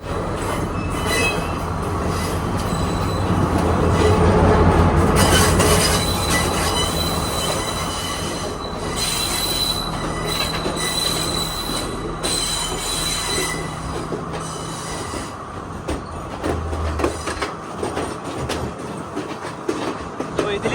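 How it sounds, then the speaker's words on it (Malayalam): A long goods train passes close by at a railway station in Sri Lanka, wheels squealing and clattering over the rails, the heavy roar swelling then slowly easing. "ഇവിടെ ഒരു ഗുഡ്സ് ട്രെയിൻ ഉണ്ട്."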